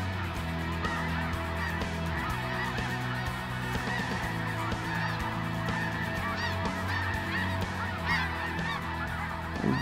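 A dense flock of snow geese and blue geese honks continuously overhead during a hunt in Manitoba, many calls overlapping into a loud, unbroken clamor with no one speaking.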